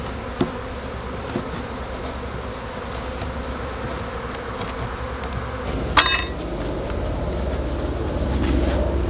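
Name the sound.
honey bees buzzing while closing the beehive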